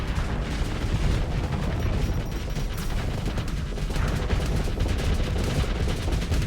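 Laser weapons in the Starsector space game fire in dense, overlapping volleys, a loud continuous crackling barrage with booming impacts and no speech on top.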